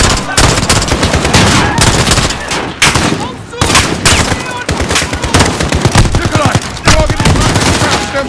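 Loud, rapid bursts of automatic gunfire in Call of Duty: Modern Warfare (2019) crackle almost nonstop, with brief pauses between volleys.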